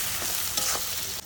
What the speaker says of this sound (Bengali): পেঁয়াজটা তেলে দিয়ে দিয়েছি